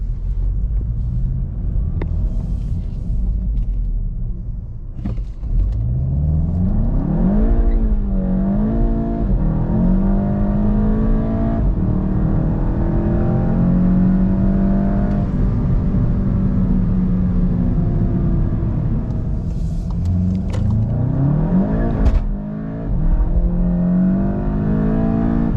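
Volkswagen GTI fitted with a Unitronic intake, air duct and turbo inlet, accelerating hard in automatic sport mode; a loud, close engine note climbs steadily through the gears with brief shift dips, alone without talk.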